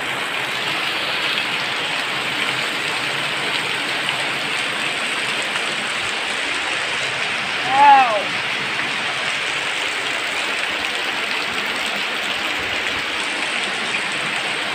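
Heavy rain pours steadily in a dense, constant hiss, with a brief tonal chirp rising above it midway.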